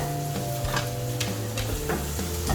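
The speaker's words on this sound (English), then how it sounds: "There's our Brussels sprouts. That's just cooking slightly because remember, they're only blanched at this point." Blanched Brussels sprouts cook gently in a pan on the stove, giving a steady sizzle with a few soft stirring scrapes and light clicks, and no voices.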